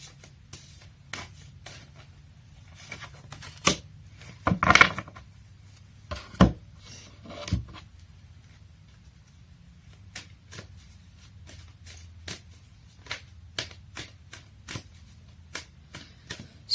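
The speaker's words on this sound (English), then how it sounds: "I don't even know how to shuffle." Soft, irregular riffling and tapping of large oracle cards being shuffled by hand, close by, with scattered louder flicks and shuffles over a quiet background.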